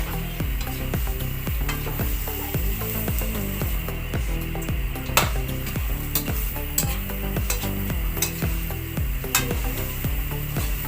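Bopis simmers in a pot as radish goes in. Repeated rhythmic scraping and stirring strokes sit over a low steady bubbling and sizzle, with occasional sharper clinks and no talking.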